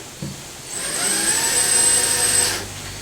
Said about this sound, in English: You can use the drill to save some time